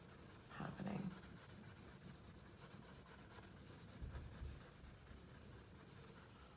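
Pencil shading and blending on paper, a soft continuous scratchy rubbing close by and fairly faint, with a slightly stronger stroke near the start.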